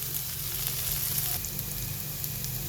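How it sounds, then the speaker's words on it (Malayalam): Ginger, green chilli and curry leaves sautéing in oil in a pan, a steady close sizzle that fills the whole stretch with a faint stir or two and no voice. "ഇഞ്ചി പച്ചമുളകും അങ്ങനെ ഇട്ടിട്ട് നന്നായി കൂടെ ഇളക്കി സെറ്റാക്കാം"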